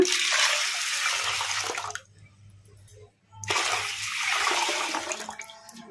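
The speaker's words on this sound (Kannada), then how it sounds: "ಈಗ ಇದಕ್ಕೆ ನೀರು ಹಾಕ್ಕೊಂಬಿಡೋಣ" Water poured from a vessel onto washed cowpea (alasande) dal set aside for soaking before grinding for masala vada. Two close, steady pouring bursts are separated by a short pause.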